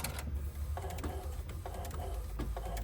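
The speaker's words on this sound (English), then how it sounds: "so I'm printing it again to see how it works" An Epson ET-8850 inkjet printer prints after its print head has been unclogged, giving a close, steady mechanical whir with periodic clicks and carriage passes and no talking.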